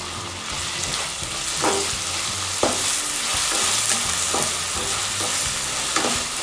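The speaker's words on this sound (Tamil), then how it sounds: "அதனால தான் இப்போ கட் பண்ண தக்காளி போட்டுடலாம்." Freshly cut tomatoes drop into a hot pan and fry as a Gujarati-style dhal kitchadi is cooked. A steady close sizzle runs throughout, broken by scraping stirs at irregular intervals.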